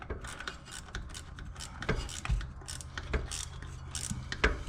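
A ratchet turns a stubborn bolt on a Dodge Duster, giving quick bursts of close, rapid clicking, uneven in rhythm, with short pauses between the runs and no talking.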